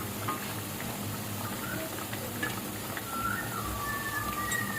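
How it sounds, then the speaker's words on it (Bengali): Pakon pitha, a Bangladeshi rice cake, frying in oil, giving a soft, steady sizzling hiss with faint crackles throughout and no voices. "দেখেন, আমি এমন করে ভেজে নিচ্ছি।"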